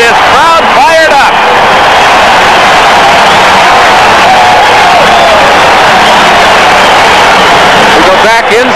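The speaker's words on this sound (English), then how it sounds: "the Kansas City Chiefs defense has this crowd fired up" A stadium crowd at a Raiders at Chiefs NFL football game in Kansas City roars steadily for the Chiefs defense, a loud, dense wall of cheering with a commentator talking over it.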